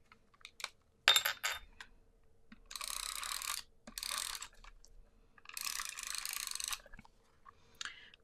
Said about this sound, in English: I will put this on with some tape runner.